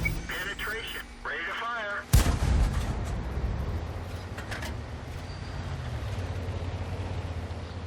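Tank gun firing in the World of Tanks video game: a sudden loud boom about two seconds in, after a short spoken phrase, followed by a long rumbling decay under engine and battle noise.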